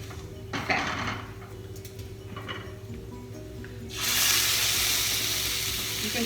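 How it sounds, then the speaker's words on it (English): Tomato and rice scrape and stir in a pan, then a loud hiss of sizzling bursts in and continues steadily, close by. "you're gonna hear it sizzling, okay? So don't be alarmed, it's supposed to sizzle."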